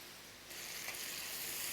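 Chopped tomato goes into a hot pan for rava upma, and the sizzle swells suddenly into a steady, faint hiss of frying.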